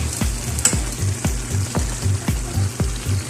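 Bitter gourd (ampalaya) sautéing in a pan is stirred, a steady sizzle of frying broken by regular scraping strokes about every third of a second, close and alone with no talk.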